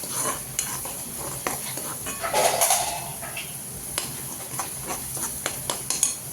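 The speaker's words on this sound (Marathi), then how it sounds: "असा हलवा करायचा जोपर्यंत तेल सुटत नाही अंगाचं तोपर्यंत आपण परतून घ्यायचं" Masala paste for an egg curry stirred in hot oil in a pan, a soft steady sizzle under repeated scraping and light utensil knocks, with a louder burst of frying midway.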